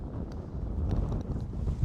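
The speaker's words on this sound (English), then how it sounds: "wind is like starting to really pick up" Cold wind on a golf course at dusk buffeting the microphone, a brief low, dense rumbling roar with uneven gusts.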